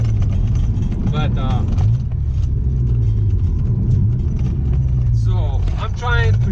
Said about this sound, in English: I'm trying to shift with the revving of the engine without using the clutch